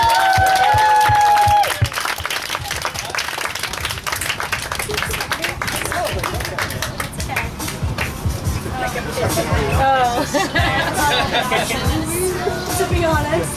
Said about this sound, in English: One more round of applause for Selena